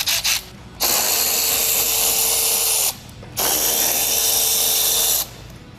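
A power tool spins out 7mm screws holding the front bumper of a 1999-2004 Ford Lightning, with two long loud whirring bursts of about two seconds each, separated by a short pause.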